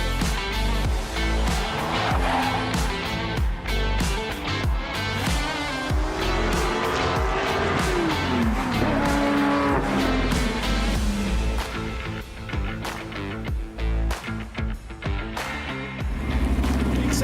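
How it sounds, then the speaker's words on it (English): Race cars roaring together at the start of a sim race in iRacing at Oulton Park, a dense, continuous layer of engine drone with shifting pitch sweeps as cars accelerate and jostle, loud throughout with no break. "when those lights go out, these cars get loud, and we go motor racing"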